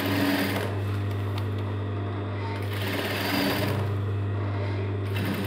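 A sewing machine stitches the waistband of denim jeans, a loud, continuous mechanical whir with a fast steady hum that dips briefly midway before resuming.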